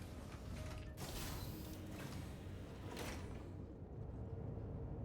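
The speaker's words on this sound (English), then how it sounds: "Let's take the elevator up." Elevator moving aboard the RSI Perseus ship in a video game: a steady low mechanical hum and rumble with creaking and sliding-door swishes around the start, easing off toward the end.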